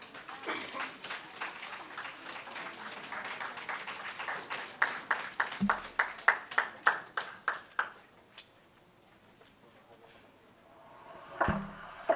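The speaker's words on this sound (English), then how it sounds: "Ms. Hope, give her a round of applause." Applause from an audience at an entrepreneurship grants presentation ceremony, many hands clapping at moderate distance, thinning to a few separate loud claps before stopping, with some voices mixed in.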